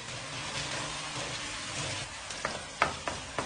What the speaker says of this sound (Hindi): अब इसको भी ऐसे थोड़ा फ्राई कर लें ताकि लहसुन की जो स्मेल है वो खत्म हो जाए